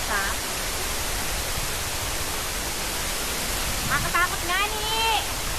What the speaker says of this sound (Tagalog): nandito tayo sa ibabaw ng Sampaloc Falls